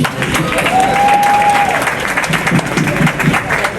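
Applause from a panel discussion audience, dense steady clapping filling the room for about four seconds, with a faint whistle or cheer briefly rising above it.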